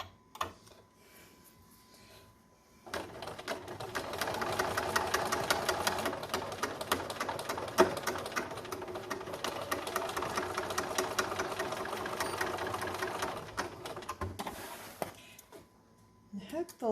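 A sewing machine stitching a concealed carry belly band runs in a steady, rapid mechanical whir for about eleven seconds, close and even, with brief quiet handling sounds before and after.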